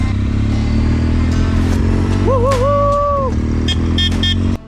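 Motorcycles roll out onto the Trans Euro Trail with a loud, steady engine drone close by, a brief wavering horn-like toot in the middle, and clattering taps toward the end.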